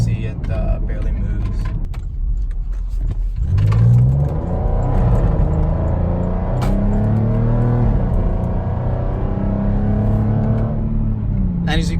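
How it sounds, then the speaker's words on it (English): A 2014 Porsche Cayenne pulls at full throttle in sixth gear from about 50 mph, its engine a steady rising drone with a slow climb in pitch, heard from inside the cabin as someone talks over it. "6th gear, 50 miles an hour, foot to the floor. My foot is to the floor"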